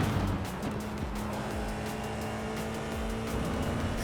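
An F4 race car in the iRacing sim runs flat out at full throttle, a continuous engine drone with rising and shifting pitch, steady and loud throughout.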